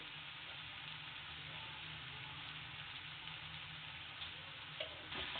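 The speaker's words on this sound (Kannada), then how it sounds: "ಇದನ್ನ ಹಂಗೆ ಫ್ರೈ ಮಾಡ್ತಾ ಕ್ಲೀನಾಗಿ ಮಿಕ್ಸ್ ಮಾಡಬೇಕು." Avarekalu (field beans) frying with salt for a fried rice dish: a steady, faint sizzle with occasional soft stirring scrapes toward the end.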